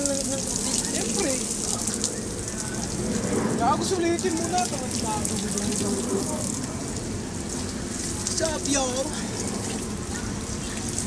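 Shower water runs and splashes continuously in a bathroom, a steady hiss beneath close, lively talk from several people.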